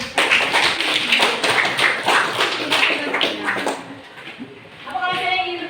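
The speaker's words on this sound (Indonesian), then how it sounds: "Masih tepuk tangan dong." A classroom of students claps after a school presentation, dense and fairly loud for several seconds before fading, then a voice speaks as the clapping dies away.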